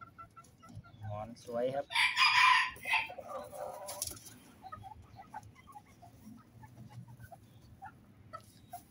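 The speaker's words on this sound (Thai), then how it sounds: "เป็นไก่ประจำท้องถิ่นของจังหวัดเพชรบุรีครับ" Cocoa-coloured bantam chickens of the Phetchaburi local breed, a breeding pair, with a loud rooster-like crow and clucking bursting out briefly early on, then faint scattered clucks while someone speaks quietly.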